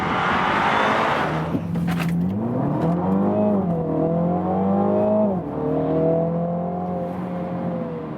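A 2021 MINI Clubman John Cooper Works launches hard using launch control, its engine note climbing steadily through the revs in a loud, continuous pull with a brief dip around a gear change before rising again.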